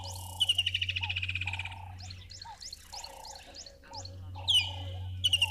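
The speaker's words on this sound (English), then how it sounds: "So that call there, that is the Natal spurfowl." Natal spurfowl calling in rhythmic bursts of harsh chattering notes over a steady low drone, with other bird chirps scattered around, fairly close and clear.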